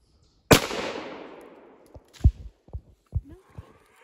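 A single sharp gunshot cracks out during a fall turkey hunt as a raccoon is shot, close and loud with a long fading echo, followed by several softer thumps and rustles.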